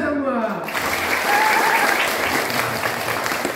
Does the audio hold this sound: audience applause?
yes